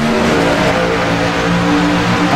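Race cars charge away at a green flag restart on a racing broadcast, a dense, loud wall of engine roar with steady rising pitch, several cars blending into one continuous drone.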